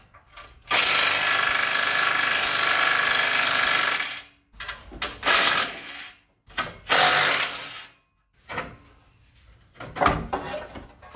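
A 3/8 ratchet working transmission bolts loose on a Honda Civic with an automatic transmission: a long, steady ratcheting run, then several shorter clicking bursts with brief pauses, close and fairly loud.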